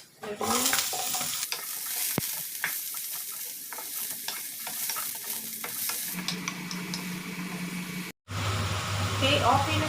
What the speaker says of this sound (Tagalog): let's fry the celery